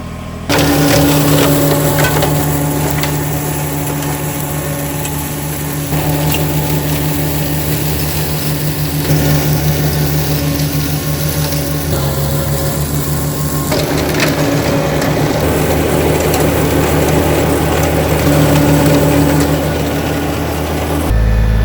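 A farm tractor engine runs at a steady idle, a loud continuous low drone with a constant hum that holds throughout with only slight shifts in tone.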